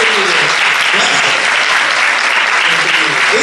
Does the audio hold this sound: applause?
yes